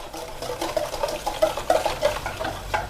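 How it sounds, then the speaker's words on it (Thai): A spoon stirs a liquid mixture of taro water, coconut milk and cornstarch in a pot, making soft, rhythmic swishing and light scraping strokes, close and clear with no talking. "คนผสมให้เข้ากันครับ"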